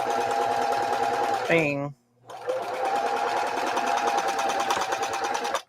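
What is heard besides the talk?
sewing machine stitching a placemat pouch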